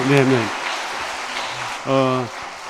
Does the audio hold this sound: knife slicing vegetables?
no